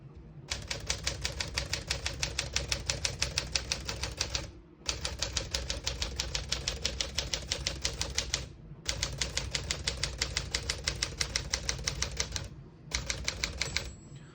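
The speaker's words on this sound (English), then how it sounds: "Once you hear the bell, you're at the end of the margin." Typing on a 1956 Smith-Corona Silent-Super portable typewriter: fast, even runs of close key strikes in three long bursts separated by short pauses for carriage returns, with a faint ring near the end.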